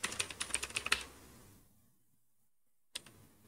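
Quick typing on a computer keyboard, a short run of crisp, close key clicks that stops after about a second, followed by near silence and one last faint tap.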